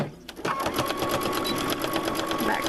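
A sewing machine runs steadily, stitching a straight line along the serged edge of a bath towel, its fast even needle chatter loud and close for nearly the whole stretch after a brief quiet start.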